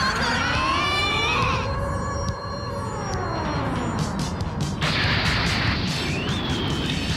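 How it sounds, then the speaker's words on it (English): Ion cannon firing in the video game Super Robot Wars Z3, a loud wailing, siren-like tone that rises and falls over a dense, roaring rumble, with a bright sustained whine joining near the end. "This ion cannon sounds like Silent Hill."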